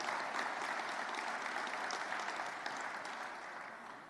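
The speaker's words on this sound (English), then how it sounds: "if we can just give her a round of applause, please" A crowd applauds at an outdoor Gold Star Families tree lighting hosted by the governor, steady dense clapping that gradually tapers off toward the end, somewhat distant and soft.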